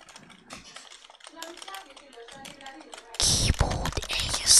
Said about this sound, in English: He wants to hear keyboard ASMR in the meantime.